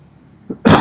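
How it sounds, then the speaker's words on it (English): A single sharp cough bursts out near the end after a quiet lead-in, preceded by a brief soft throaty sound. "the coughing and the sniffing might not be the best thing for the camera"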